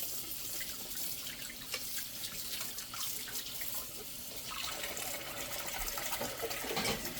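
Tap water runs steadily from a faucet into a sink, splashing and hissing continuously with shifting tone as dishes are rinsed.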